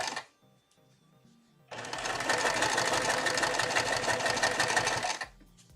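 A sewing machine stitches a seam on a tote bag, its fast, even motor whir running steadily for about three and a half seconds. It is close and alone, with quiet handling noise before and after.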